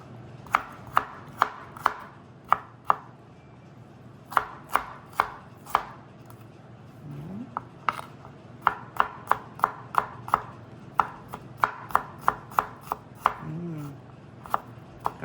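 A knife chops smashed garlic on a cutting board with sharp, close, crisp strikes in quick irregular bursts separated by short pauses, alone with no talk.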